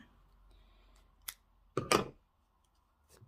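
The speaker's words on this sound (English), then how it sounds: "So let me snip that" Scissors snip through crochet yarn while granny squares are being joined, giving one small click and then a louder, sharper cut nearby in an otherwise quiet room.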